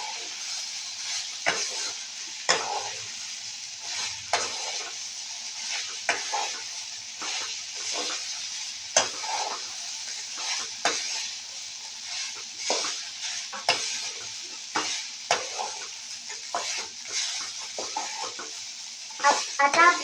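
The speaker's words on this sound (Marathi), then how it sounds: "यामध्ये हे पोहे भिजवलेले टाकत आहे. व याला परतत आहे" Soaked poha tossed and stir-fried in a pan, giving a steady close scraping and stirring with light sizzle and repeated sharp clicks of a spoon against the pan, with no talking.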